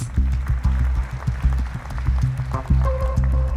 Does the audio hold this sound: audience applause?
yes